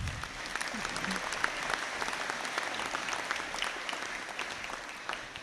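A round of applause at a university conferring ceremony, sustained clapping from a seated audience that stays even and full throughout, with scattered louder claps near the front and a faint voice or two underneath.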